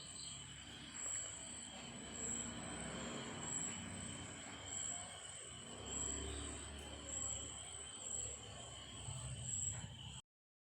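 A train rolls past a park in the evening, a steady low rumble with a thin metallic wheel squeal running throughout, while crickets chirp in the background.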